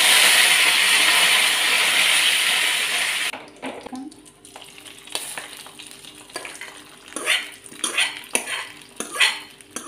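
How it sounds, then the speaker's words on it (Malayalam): Mustard seeds and whole dried red chillies frying in hot oil give a loud, steady broadband sizzle for the first few seconds, then sharp crackling pops and spoon scrapes against the pan. "എണ്ണ വെച്ചിട്ട് ചൂടായിട്ടുണ്ട്. ഒരു സ്പൂൺ കടുക് ഇട്ട് കൊടുക്കാം. ഒരു ഒന്നര സ്പൂൺ വറ്റൽ മുളക് ഇട്ട് കൊടുക്കാം."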